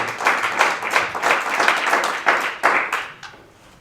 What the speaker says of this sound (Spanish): Fuerte a la gloria del Señor ese aplauso.